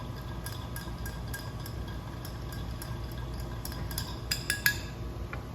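A bar spoon stirs a Manhattan with Angostura bitters in a mixing glass, giving a steady, soft swirl of ice and liquid with faint repeated clinks and a few brighter taps near the end.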